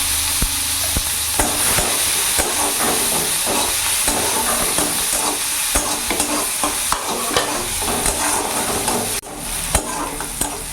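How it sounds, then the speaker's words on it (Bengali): Chopped onion sizzles and fries in hot mustard oil with whole cumin, a steady loud hiss broken by frequent clinks and scrapes of a stirring spoon against the pan, with no voices. "পেঁয়াজটা হালকা ভাজা হয়ে গেছে, কাঁচা গন্ধটা চলে গেছে।"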